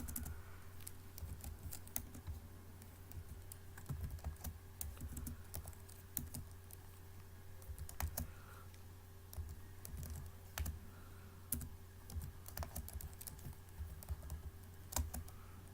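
Fast, steady typing on a computer keyboard, with dense clicking keystrokes close by over a low constant hum, continuing throughout without any speech.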